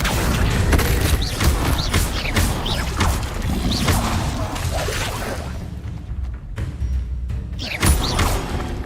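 A magical summoning spell effect from Hogwarts Legacy, a loud whooshing rush with thumping, crashing impacts that fades briefly before another burst returns.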